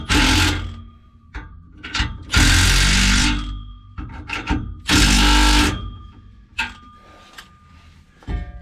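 Power tool tightening the exhaust on a 1979 GMC Vandura van, sounding in several loud bursts of buzzing whir separated by short pauses, close by.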